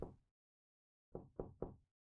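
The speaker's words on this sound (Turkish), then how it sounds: "Ve şu an kapı çalıyor." Knocking on a door in a horror video game: one knock, a pause, then three quick evenly spaced knocks, clear and dry in an otherwise silent room.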